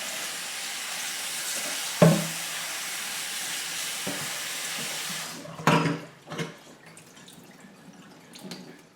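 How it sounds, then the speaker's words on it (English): Water rinsing over orchid pots, a steady running hiss for several seconds, then a few sharp splashes and drips as the flow stops, close and without talk. "give them a little rinse"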